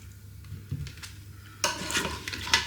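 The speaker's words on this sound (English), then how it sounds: "So let's get some of those potatoes out, shall we, as well?" Steamed potatoes are lifted out of a Ninja Foodi 15-in-1 Max onto a serving tray, with soft scraping and metallic utensil clatter, then a louder rustling, clinking burst close by.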